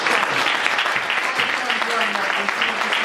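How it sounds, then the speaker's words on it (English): An audience at a sales awards event applauds steadily for a few seconds, a dense, even wash of clapping in a hall. "Give him a round of applause."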